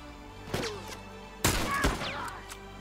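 Gunshots strike a player in The Last of Us multiplayer match, a few sharp cracks landing in quick succession, the loudest burst in the middle, fairly quiet overall with no talk.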